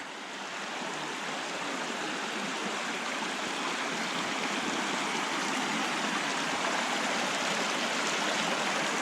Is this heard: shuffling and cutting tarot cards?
no